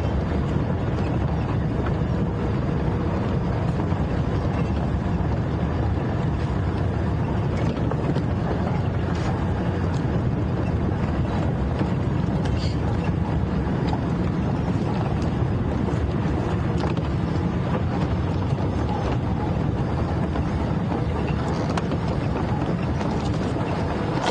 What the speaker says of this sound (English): There's quite a cold wind that's coming through.